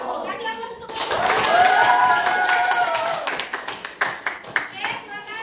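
Classroom of children claps for a group that has just finished its presentation, a dense burst of applause that thins into scattered individual claps, with a brief high-pitched voice sounding over it.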